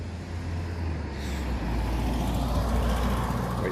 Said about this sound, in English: Wait for this rather noisy car to go past.